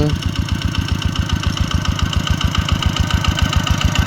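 A tractor engine chugs steadily at idle nearby, its rapid, even thumping pulse unchanging throughout.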